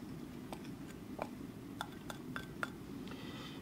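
Sugar glaze is scraped out of a measuring cup: faint, scattered clinks and taps of a utensil against the cup sound over a steady low background hum.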